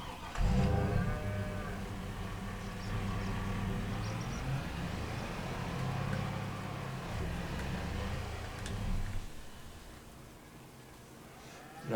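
Cows moo repeatedly in a farming video game, long low drawn-out calls overlapping one another steadily with a faint hum underneath.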